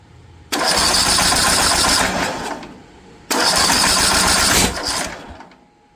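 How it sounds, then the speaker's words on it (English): A zero-turn mower engine is started twice, backfiring, each time roaring abruptly to full loudness for about two seconds before dropping back to a low rumble. "Why is it backfiring?"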